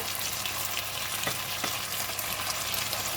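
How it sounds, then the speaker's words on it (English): Prawns with beans and eggplant sizzle steadily in a hot pan, a continuous close frying hiss broken by a few faint stirring scrapes, with no talking. "We're going to stir fry and cook for another 2 minutes until the prawns is cooked."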